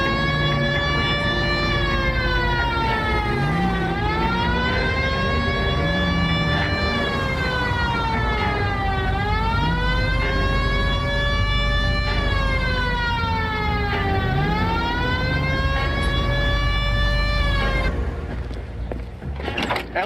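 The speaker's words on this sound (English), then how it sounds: "Hit the siren." Police car siren from the video game L.A. Noire, a loud wailing siren rising and falling in repeated sweeps for most of the stretch before cutting off, with engine noise beneath.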